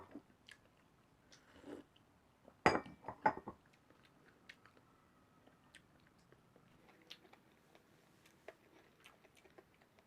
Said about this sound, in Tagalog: nahirapan na akong kagatin siya